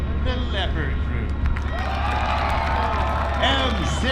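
At a tank demonstration day, a crowd applauds and cheers for the Leopard tank crew, with a continuous wash of clapping, whoops and rising whistles, and a voice talking near the start.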